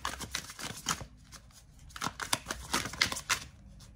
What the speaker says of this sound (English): More cards, Rebecca.